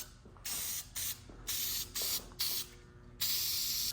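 A spray paint can fitted with a wide fan tip fires in six short bursts, each a loud, close hiss with brief pauses between them.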